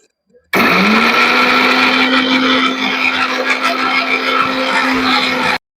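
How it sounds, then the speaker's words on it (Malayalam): A mixer grinder runs loudly and continuously for about five seconds, blending ingredients together, then stops abruptly. It starts with a rising whine and keeps up a steady, dense roar throughout. "എല്ലാം കൂടി അടിച്ചെടുത്തിട്ടുണ്ട്"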